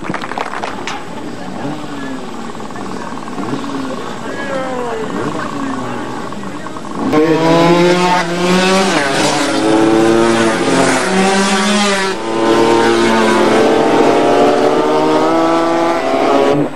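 Racing motorcycles at the Glavica circuit in 1996 build from a softer engine drone into a loud, close, high-revving roar as several bikes accelerate together, with a public-address voice over the start.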